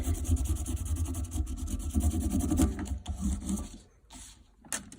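A small crayon rubs back and forth over paper laid on a leaf, giving a steady scratchy rasp that fades near the end, then a few brief strokes.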